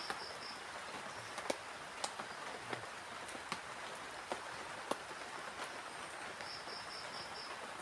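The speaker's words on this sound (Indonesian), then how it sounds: "Sambil ditemani sama rintikan hujan ya." Light drizzle falls at a forest camp with a plastic shelter after heavy rain and strong wind. A steady soft hiss carries scattered faint drop taps, with insects chirping in short bursts in the background.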